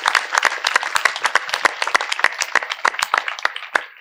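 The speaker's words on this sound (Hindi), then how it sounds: "कृपया हम इन सभी के लिए एक बार पुनः जोर से तालियां बजाकर" Worshippers gathered at an open-air grotto for the Our Lady of Fatima feast applaud with loud, close, crisp hand claps, uneven and lively, with distinct individual claps standing out.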